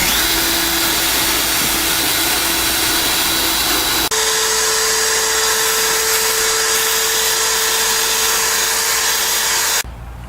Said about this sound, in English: the first thing I'm going to do is drill holes in the bolts